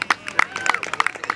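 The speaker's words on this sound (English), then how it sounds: "There's applause for you." Scattered, uneven hand clapping from a small crowd outdoors at a rocket launch, sharp claps close by over a faint murmur of voices.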